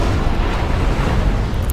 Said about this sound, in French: Là il y a 4 canons qui tirent plus les lance-missiles.